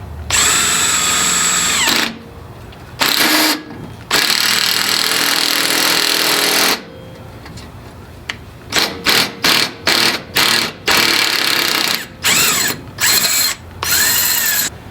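A power tool drives a ball joint press to seat an Energy Suspension bushing in an S13 240SX rear knuckle. Loud, close whirring comes in a few long runs, then a string of short rapid bursts with brief pauses between.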